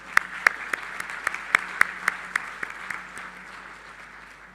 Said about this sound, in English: you certainly deserve a big round of applause